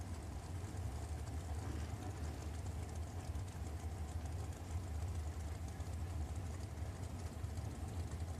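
Dragsters idle at Richmond Dragway during an I-95 Series Saturday event, a steady low engine rumble and drone that holds continuously at a moderate distance, with no voices over it.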